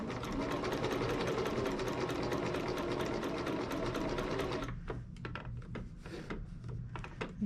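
Sewing machine running steadily as it stitches a 5/8 inch seam in fabric, loud and continuous, then breaking into shorter stop-start bursts toward the end with no talking.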